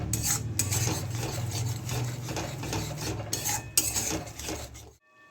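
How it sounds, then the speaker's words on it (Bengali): Cumin and coriander powder being stirred and fried in oil for ghugni, a continuous rasping scrape of a spoon against the pan over a soft sizzle, close and steady, stopping abruptly near the end. "যতক্ষণ না তেল ছাড়ছে কষে যাব ভালো করে"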